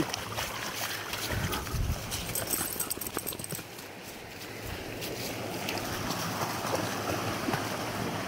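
Creek water spills steadily down a small waterfall near a possible beaver dam, a continuous rushing wash with splashy bursts, fairly close and unbroken.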